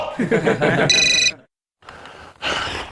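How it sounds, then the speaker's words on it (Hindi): A mobile phone rings with a bright, repeating electronic tone, briefly overlapping a man's exclamation before a short silence and another burst of sound. "मोबाइल बज रहा है।"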